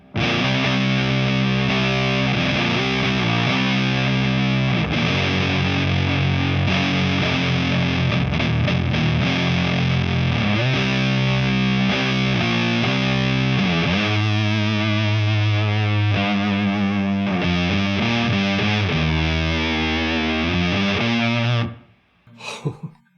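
Electric guitar through a Big Muff fuzz pedal set as a boost into a Death Cap Amplification Model 18t amp, thick saturated tone playing sustained chords and riffs loudly, then stopping abruptly with a short final flourish.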